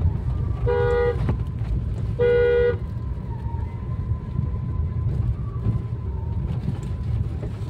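Two sustained Maruti S-Cross car horn blasts sound close by over steady road and engine rumble, each lasting about half a second, with a quieter tone lingering afterward.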